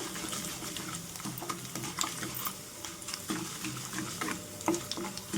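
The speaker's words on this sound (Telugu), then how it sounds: "ఈ పోపు వేసిన తర్వాత అటు ఇటు తిప్పుకుంటూ కొంచెం చిటపటలాడేలాగా మనం ఫ్రై చేసుకోవాలన్నమాట." Tempering seeds and dried red chillies crackling in hot oil while being stirred back and forth, a steady sizzle with irregular pops and light scraping of the spoon, close and moderately quiet.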